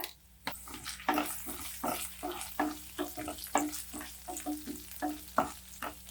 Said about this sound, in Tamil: பூண்டு நல்லா வதங்கணுங்க